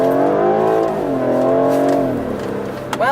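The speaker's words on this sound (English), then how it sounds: "Well, it does make a rather good noise, and it certainly accelerates quickly." A BMW accelerates hard with a loud, steady engine note that climbs through the revs, dips at a gear change, then climbs again, heard close and clear with no talking.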